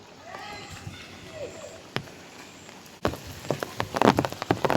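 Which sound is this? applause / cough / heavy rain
heavy rain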